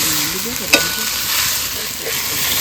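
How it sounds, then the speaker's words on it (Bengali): Hilsa fish pieces stirred with spices in oil in a frying pan, a steady loud sizzle with scraping stir strokes and a sharp clink of the utensil. "এবার মশলার সঙ্গে একটু নেড়ে করে নেবো"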